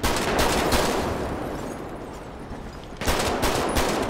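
Gunfire in the video game GTA 5 on PC, a dense, loud burst of rapid shots that fades slightly, then a second sharp volley starts near the end.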